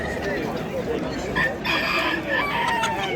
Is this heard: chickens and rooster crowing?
yes